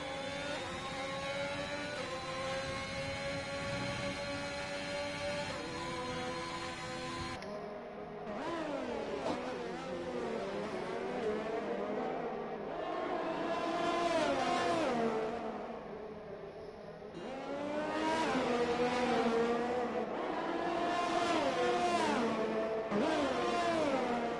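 Race car engines in a sim racing game at a Celerity eSports Azerbaijan round, a continuous drone of revving engines with rising and falling pitch sweeps as cars accelerate and shift, loud and steady throughout.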